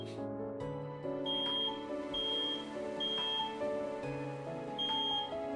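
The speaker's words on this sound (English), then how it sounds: "the smoke alarm above their heads finally overloaded" A smoke alarm in the game Reverse: 1999 overloads with repeated high electronic beeps over a sustained tonal backdrop, fairly loud and close, with no talk.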